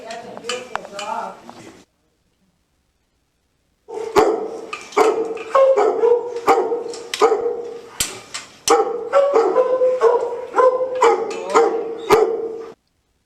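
Repeated nearby barks and yips from a dog in quick bursts, with a pause of silence between volleys and some sounds like voice mixed in.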